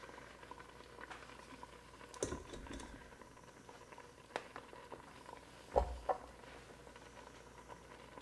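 Liquid simmering low in a Ninja Foodi multicooker during a cheesy meatloaf cook with carrots and potatoes, a faint steady bubbling patter with a few louder clunks and taps, no talk.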